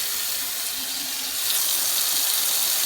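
Tap water runs steadily into a sink as wild lettuce leaves are rinsed, a close, even hiss and splash that swells slightly partway through, with no talking.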